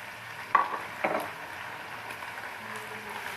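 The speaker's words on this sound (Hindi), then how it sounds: "मिक्स करते हैं इसको अच्छी तरह से।" Chicken fried rice with carrots, capsicum, cabbage and potato sizzles in a pan while a spatula stirs it, two scraping strokes standing out over a steady frying hiss nearby.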